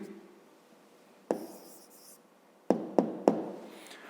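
Handwriting an answer to a fifth-grade maths exercise, with soft pen-on-paper scratching broken by a few sharp taps of the pen against the desk, close and fairly quiet.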